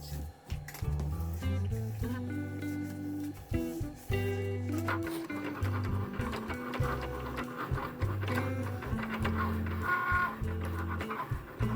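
A Cricut cutting machine runs with steady motorised whirring and shifting tonal hums as its carriage moves, close and continuous with no talking.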